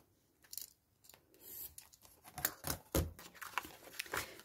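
Scissors cut through paper while making journal pockets, a few close, crisp snips and rustles, quiet and short, with no talk.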